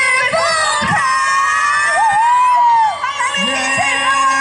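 A concert crowd at a Lantern Festival show in Yangmei greets a singer with loud, sustained screaming and cheering, shrill voices rising and falling over a steady roar of applause, with an amplified voice cutting in near the end.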